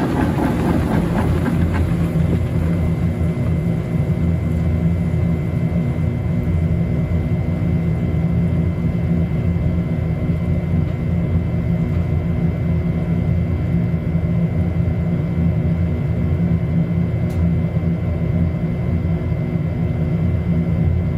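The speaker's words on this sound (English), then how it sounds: "There's about probably 20 to 30 pounds of towels in this unit right now, and it's spinning very fast." A Maytag MVWP575GW commercial-grade top-load washer spins a large load of towels at high speed, giving a loud, steady motor roar and drum whir that hold constant and unbroken throughout.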